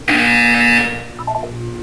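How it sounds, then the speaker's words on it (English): A loud electronic buzzer from the game Portal 2 sounds once with a harsh steady tone, then cuts into a short descending series of beeps over a low hum, with no voices. "You will hear a buzzer."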